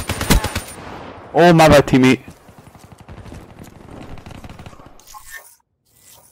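Rapid automatic gunfire in Call of Duty Black Ops 3 hardcore multiplayer, a short loud burst followed by scattered in-game shots and effects, with a player talking over it.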